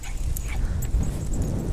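A Jack Russell terrier whimpers and gives short yips in steady close bursts over a constant outdoor rumble, with no speech.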